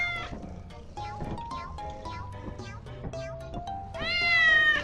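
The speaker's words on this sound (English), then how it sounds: "Maxwell the cat." Maxwell the cat meowing in the Lethal Company video game, a string of short repeated meows with a longer, louder drawn-out yowl at the end, fairly close and clear.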